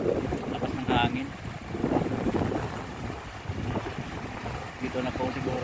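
Strong gusty wind buffets the microphone beside a diversion road in Iloilo City, a loud rumbling rush that swells and eases, with someone speaking at intervals over it.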